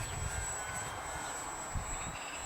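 An E-flite M7 Maule, a 1.5 m RC foam model airplane, flies overhead with a steady electric motor drone and whine, moderately distant and continuous outdoors.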